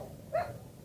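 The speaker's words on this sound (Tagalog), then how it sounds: "May tuta." A small puppy gives one short, high yip-like bark, fairly close, on a breezy mountain trail near a hilltop chapel and crosses, with low wind rumble around it.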